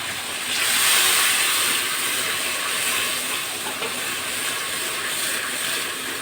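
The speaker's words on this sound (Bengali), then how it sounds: "হালকা একটু জল দিলাম।" Water splashed into a hot pan during cooking sets off a loud, broad hiss of steam that swells quickly and holds steadily close up, with no talk.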